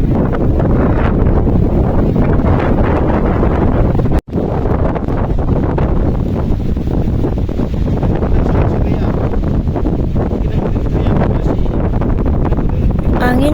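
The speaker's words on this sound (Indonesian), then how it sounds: "Angin benar-benar besar." Strong, gusting wind roaring across the high slopes of Mount Merbabu during a storm, buffeting the microphone loudly and continuously with a brief dropout partway through.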